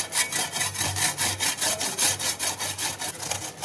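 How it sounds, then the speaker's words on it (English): An onion is grated by hand on a grater set over a plate, giving quick, even rasping strokes, several per second, close and loud with no voices. "Keep one plate and on this place this grater, and now grate the onion."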